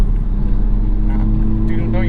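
A 2021 Toyota Supra 2.0 builds toward highway speed, its engine a low, steady drone inside the cabin with road rumble underneath and a brief rising whine near the end.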